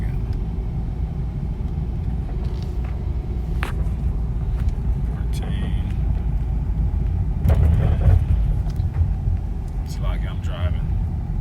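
A car on the road, a steady low engine rumble with tyre and road noise throughout, rising slightly near the end, while someone talks over it.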